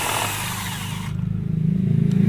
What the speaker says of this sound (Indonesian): Kalau speed 2 itu sekitar 1200 rpm kalau yang bore cordless kayak gini.